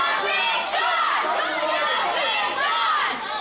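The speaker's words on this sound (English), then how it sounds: "You hear them trying to rally, trying to give Josh that second wind." Wrestling fans at a PowerSlam show cheer and shout to rally a wrestler named Jimpin Josh, a dense, loud crowd roar with children's high voices rising and falling continuously.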